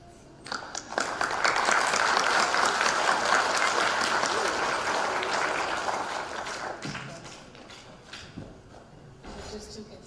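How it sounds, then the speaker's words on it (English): Audience applause fills a spelling bee hall, a sustained burst of many hands clapping that swells loud, holds, then tapers off into scattered claps and light room noise. "With just 2 contestants, we get to clap a lot more often"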